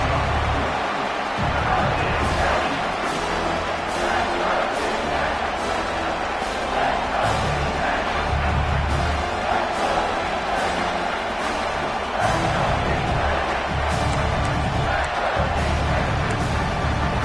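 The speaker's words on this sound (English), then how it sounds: "Third down and the crowd really getting into it." Steady roar of a stadium crowd at a football game on third down, a dense continuous wash of voices and cheering that holds loud for the whole stretch, with swells and bursts rising out of it.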